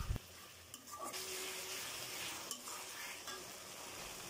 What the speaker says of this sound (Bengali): পেঁয়াজ কুচিটা দিয়ে একটু বাদামি রং করে ভাজতে হবে